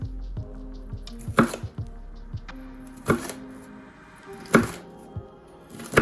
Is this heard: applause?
no